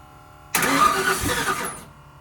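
An engine started at the solenoid turns over with a loud, abrupt burst of cranking that fades within about a second and a half, with no catch into a run.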